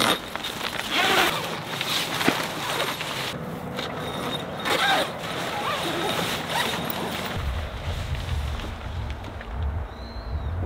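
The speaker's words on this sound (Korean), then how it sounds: "여기 지퍼를 열면 돼" Zipper on an SUV docking tent fitted to a Ford Expedition being opened, a series of short rasping pulls outdoors with faint background sounds and no speech.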